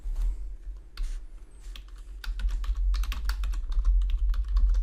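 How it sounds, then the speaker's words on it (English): Typing on a computer keyboard, a close run of quick, irregular key clicks that grows busier after a brief pause, over a low steady hum. "we're going to go ahead and type"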